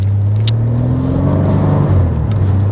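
A BMW M3 G80 with its six-cylinder engine accelerates, a close, steady engine drone climbing in pitch as it pulls, heard from inside the car without talk.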